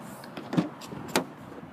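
Power windows or power locks on a Mitsubishi RVR with leather interior produce a couple of short mechanical whirs and clunks close by, separated by quiet cabin hush.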